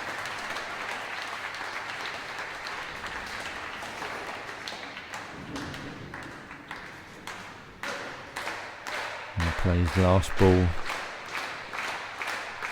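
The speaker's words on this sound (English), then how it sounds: "the applause is already there" Crowd applause at a professional bowling final, the QubicaAMF Masters, builds steadily under a commentator's voice, with a loud burst of clapping near the end and sharp hand claps audible throughout.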